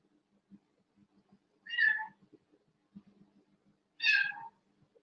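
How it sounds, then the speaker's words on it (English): A house cat meows twice, a few seconds apart, each call clear and fairly close over a faint background of quiet room noise. "I've got a cat here."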